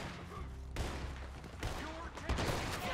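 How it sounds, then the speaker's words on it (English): Shotgun fire in Red Dead Redemption 2 during a mansion shootout, heard as a few sharp, fairly quiet blasts amid background game noise and brief talk. "Shotguns!"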